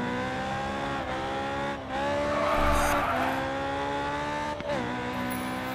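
Race car drifting through corners in GRID 2, a loud steady engine howl with gear shifts dipping at intervals, and a broad tire squeal swelling in the middle as the car slides, with no talk.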